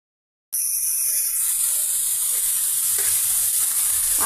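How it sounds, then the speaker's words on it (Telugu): Chopped onion pieces sizzle loudly in a pan with no oil after a sudden start, with steady hissing and occasional stirring scrapes and no voices. "ఆనియన్ పీసెస్ని ఈ విధంగా బాండీలో ఫ్రై చేస్తున్నామండి"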